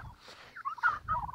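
A 10-week-old meat turkey gobbles in a short burst of quick, warbling notes, close and fairly clear, with no talk over it.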